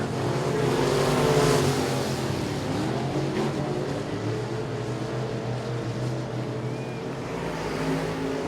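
Race cars lap Sabine Speedway, a continuous loud engine roar sustained throughout, swelling early as cars pass close and then holding a steady drone of several machines circling.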